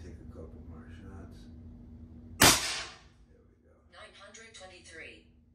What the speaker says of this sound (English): But let me take a couple more shots.